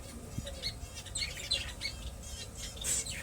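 Pet finches in a cage with their active chicks chirp and squawk in scattered short calls, several birds at once, at a moderate, fairly soft level with no talking.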